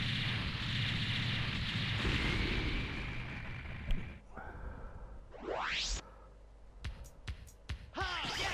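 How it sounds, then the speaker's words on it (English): A boss in the Mega Man X4 video game blows up in a long, loud, roaring burst of noise that fades out around four seconds in, followed by sweeping rising whooshes and sharp sporadic blips. "Going down with a big explosion."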